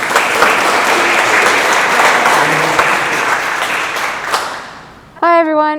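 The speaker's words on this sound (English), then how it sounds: "Please give me applause" Audience applause greeting a guest speaker at a science café talk, a full, sustained round of many hands that tapers near the end before a voice starts speaking.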